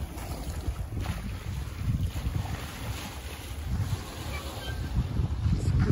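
A sailboat is under way offshore in swell and wind, heard as a steady low rush of water and wind buffeting the microphone, with no distinct voices.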